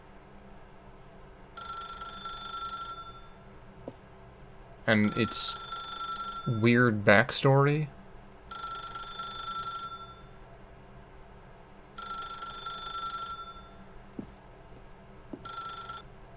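An old-style telephone bell rings in repeated bursts with pauses between them in The Stanley Parable, while a person talks over the middle stretch.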